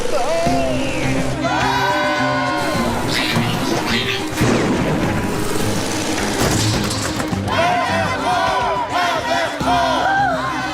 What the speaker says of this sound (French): T'entends la foule?